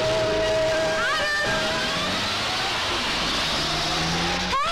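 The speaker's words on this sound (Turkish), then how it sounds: "Sarhoş gibi kullanıyor arabayı." A car is driven erratically, its engine revving with rising and falling whines, a continuous motor drone that stays fairly close throughout.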